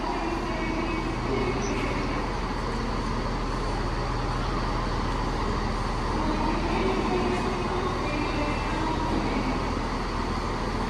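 A Class 331 electric train arriving at Stoke-on-Trent station rumbles steadily nearby with a constant low hum and hiss, no talking, as the unit rolls in.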